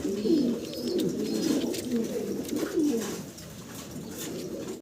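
Pigeons coo in soft, repeated rolling calls while feeding their chicks in a loft, close and steady over a low background hum.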